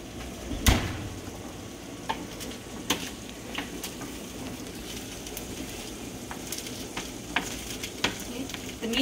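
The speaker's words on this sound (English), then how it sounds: "So just going to give it a stir, and I'm just mashing it a little bit before I add in the meatballs or the kebabs." Meatballs sizzling and frying in sauce in a pan while being stirred, with a steady crackle and occasional sharper clicks and scrapes of the spoon against the pan, close up.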